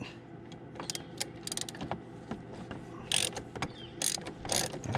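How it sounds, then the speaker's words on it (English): A ratchet fitted with an 18mm deep well socket clicks in quick bursts while it loosens the spark plug on a Honda Foreman Rubicon TRX500FA ATV. The sharp, close metallic clatter comes in irregular runs and short pauses. "spark plug out, you're gonna have to have an 18mm deep well socket"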